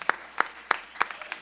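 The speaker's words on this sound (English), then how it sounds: "Let's give them a round of applause today" Sparse, slow clapping from a few people in a church congregation welcoming first-time guests during a Sunday morning service, with about five distinct claps spaced evenly, fairly close and moderately loud.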